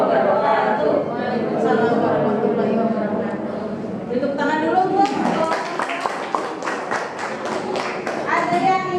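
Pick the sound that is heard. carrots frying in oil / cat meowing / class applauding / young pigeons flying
class applauding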